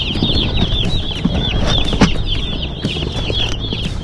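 A box of about a hundred chicken chicks at a post office cheeps continuously, a loud, close chorus of high, rapid peeps over low handling noise, with no talk.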